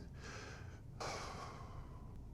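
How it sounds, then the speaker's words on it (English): Quiet deep breathing during a stretching routine: a soft inhale-like rush followed by a stronger, breathy exhale, close and faint with no talk. "2 deep breaths."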